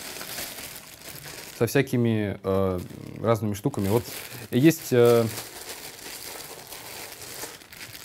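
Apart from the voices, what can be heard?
plastic bag crinkling while unboxing a pedalboard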